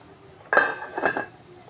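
A metal lid goes down onto a pot of salmon soup with a single sharp clatter and a brief ringing rattle, close and alone.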